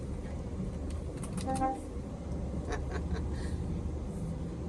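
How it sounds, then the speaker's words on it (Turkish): A short vehicle horn toot sounds once at an excavation loading site amid steady engine and road noise, fairly close but not loud. "Kornaya da bastım."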